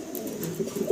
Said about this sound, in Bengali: ভিডিও স্ক্রিনে সিঙ্গেল সিঙ্গেল দুই পিস কবুতর দেখাচ্ছি, একসাথে রাখা আছে।